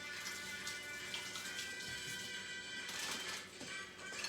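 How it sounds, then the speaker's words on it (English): Tap water runs steadily into a kitchen sink while greasy hands are washed under it, a continuous close splashing hiss with slight shifts as the hands move through the stream. "Greasy hands, gotta wash them."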